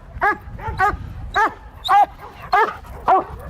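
An LAPD K-9 police dog barks steadily and loudly at close range, about seven sharp barks in an even rhythm over a low background hum.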